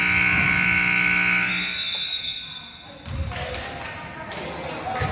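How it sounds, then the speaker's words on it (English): A loud, sustained final buzzer at a middle school basketball game blares for over a second, then fades into crowd noise, shuffling and a few thumps in a gym. "And that's the final buzzer."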